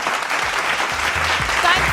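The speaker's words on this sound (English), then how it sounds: "Thank you for the standing applause." An audience at an award ceremony for the Modern Plastics India Hall of Fame gives a standing ovation, loud sustained clapping with a voice speaking over it near the end.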